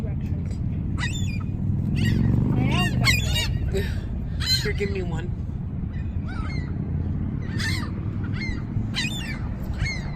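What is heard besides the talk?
seagulls calling while being fed French fries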